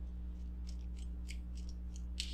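Tarot cards are shuffled by hand in a string of soft, crisp riffling clicks over a steady low electrical hum, with no talking.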